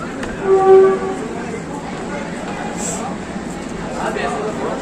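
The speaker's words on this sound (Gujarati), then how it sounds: "રાજકોટ ભુજની નવી ટ્રેન મિત્રો" Rajkot–Bhuj passenger train standing at a platform in Rajkot, with a steady rumbling station and engine hum, a short horn-like tone early on and faint clanks, under background chatter.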